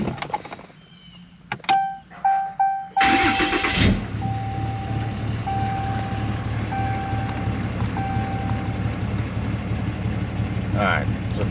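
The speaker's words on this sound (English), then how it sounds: "go ahead and start the truck" A Ram 2500 with a Cummins diesel engine cranks with a few rhythmic bursts, fires up loudly, then settles into a steady close idle that carries on to the end.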